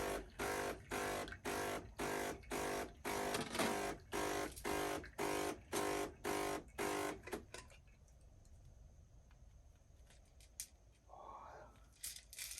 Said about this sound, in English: So it's just doing a rinse cycle.